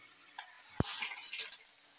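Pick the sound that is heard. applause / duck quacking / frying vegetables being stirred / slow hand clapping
frying vegetables being stirred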